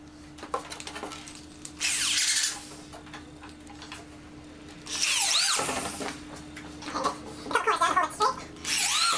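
An old corded drill runs while a small workbench is built, with two or three loud bursts of whirring and grinding separated by quieter pauses of shop noise.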